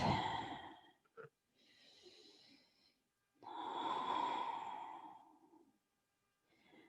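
Slow, deep breaths during a yoga pose, two long audible exhales with soft quieter breathing between, close and faint, with no talking.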